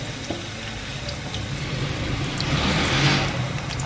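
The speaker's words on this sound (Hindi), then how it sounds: "तो दोस्तों हमारा ऑयल गर्म हो गया है, अब इसमें हम प्याज ऐड कर लेते हैं अपनी।" Finely chopped onions hitting hot oil and frying, a loud continuous close sizzle that swells slightly toward the end, with no voices.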